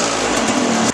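A KTM motorcycle engine idles steadily after a cold start without choke, a close, even, constant hum that cuts off abruptly just before the end.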